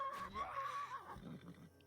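A horse whinnies in the video game Wartales, a single shrill, wavering neigh followed by a lower snort and huff, moderately close and fairly quiet.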